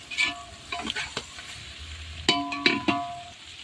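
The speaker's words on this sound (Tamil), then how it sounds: "நல்லா வெங்காயம் வதங்கினதுக்கப்புறம் தக்காளியும் போட்டு வதக்கிக்கலாம்." Onions and tomatoes being sautéed in a pan give a soft, close sizzle under scraping and tapping of a spoon against the metal as the mixture is stirred.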